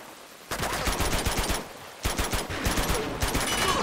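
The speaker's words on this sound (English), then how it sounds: "There's a shot." Rapid automatic gunfire in the video game Uncharted 2: Among Thieves, loud, dense bursts of shots in two long volleys with a short pause between.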